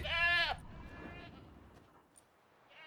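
A goat in The Witcher 3 gives a single loud, wavering bleat at the start, followed by quieter game ambience.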